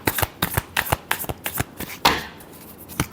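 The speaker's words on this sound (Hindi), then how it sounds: "Last shuffle." A deck of tarot cards being shuffled by hand in a riffling, rapid burst of crisp flutters and taps, close and clear with no talk.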